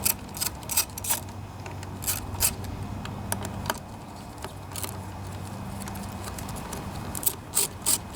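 Sharp, irregular clicks of a 9/32 socket wrench working a part loose on a newer Yard Machines lawnmower, coming in short clusters over a steady low background, close by, with no talking.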